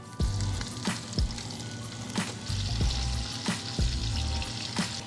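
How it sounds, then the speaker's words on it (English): Beef bacon fries in butter in a pan, giving a loud continuous sizzle with spattering pops and occasional utensil scrapes. The sound is close, with no talk. "So now I'll go ahead and just put this bacon in here"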